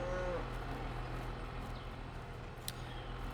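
Cattle lowing in the Farming Simulator 22 video game, a steady farm-animal moo holding over a constant low hum of background game ambience, with no talking.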